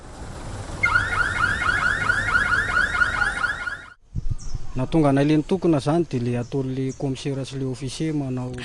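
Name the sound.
taxi horns honking in protest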